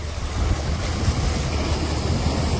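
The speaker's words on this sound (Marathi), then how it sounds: "लाटा खूप मोठं उडतात इथं." Big sea waves surging and crashing at high tide on the Mumbai shore at Madh Island, a continuous close roar of surf mixed with gusty wind buffeting the microphone, no voices.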